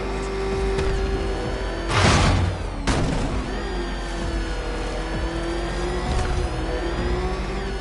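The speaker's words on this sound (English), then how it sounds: "There's more to this test than just going vroom, vroom, really fast." The Batmobile's engine in the video game Batman: Arkham Knight hums with a steady rising whine, then gives a loud roaring rev surge partway through before settling back to a sustained drone.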